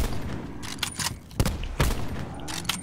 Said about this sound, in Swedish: Nej, skott. Det är skott där.